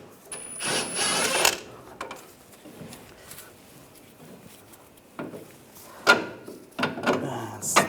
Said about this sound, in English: You can just unscrew the bolt.